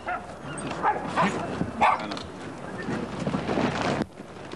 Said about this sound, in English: And then it's feeding time for 300 hungry dogs.